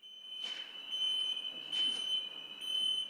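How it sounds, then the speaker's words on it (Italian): An acoustic alarm sounds in a nightclub as a steady, piercing electronic tone held throughout, with faint bursts of background noise rising and falling beneath it. "Scatta l'allarme acustico e visivo."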